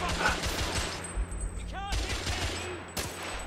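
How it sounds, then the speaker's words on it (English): Gunfire in the Victorian-era shooter game The Order 1886, sharp cracking shots and bursts layered over a busy game soundscape, with a player talking over parts of it. "I'm gonna shoot him."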